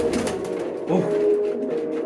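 Pigeons coo in a busy pigeon market, a dense, continuous murmur of many birds close by with a slightly louder coo in the middle, and a little background noise.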